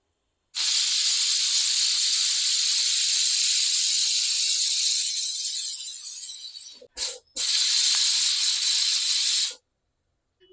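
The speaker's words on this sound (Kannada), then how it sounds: "ಇವಾಗ ಕುಕ್ಕರ್ ಲಿಡ್ ಕ್ಲೋಸ್ ಮಾಡಿ 1-2 ವಿಸಿಲ್ ಬರೋಕ್ಕೆ ಬಿಡೋಣ." Pressure cooker on a stove cooking chicken kurma, letting off a loud continuous steam whistle and hiss that fades slightly, breaks off briefly with a couple of short bursts, then resumes strongly before stopping.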